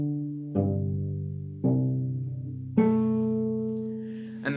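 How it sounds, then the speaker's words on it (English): Four cello strings plucked pizzicato, each a resonant, close twang that rings and fades before the next. The notes come at a slow, even pace, alone with no talk. "you pluck the strings of the cello"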